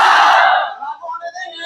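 A crowd at a student protest against BPSC exam normalization lets out a loud, brief collective shout that starts at full strength and trails off within about a second into scattered voices.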